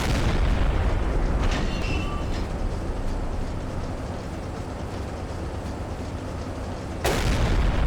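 A U-boat deck gun fires shells at a ship in Silent Hunter 3, heard as a loud, rumbling boom at the start, a long rolling decay, then a second sharp blast near the end, with no talk.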